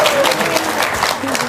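Brief burst of audience clapping from a seated crowd at an Indonesian talk show, dense and steady for about a second and a half with faint talk underneath.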